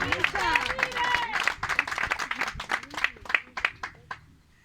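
Clapping from a church congregation offered to Jesus Christ during a sermon, uneven and fairly close, with shouts and voices mixed in throughout before it thins out.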